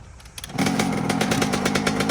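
An SSR190 pit bike engine catches after a kick start, quiet scuffing giving way half a second in to a loud, close, rapid buzzing single-cylinder drone that holds steady to the end.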